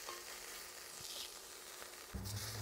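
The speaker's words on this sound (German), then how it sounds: "da karamellisiert der Zucker" Sugar caramelizing in a pan for a Greek Metaxa BBQ sauce, giving a steady soft sizzle and faint stirring scrapes, with a louder burst of frying near the end.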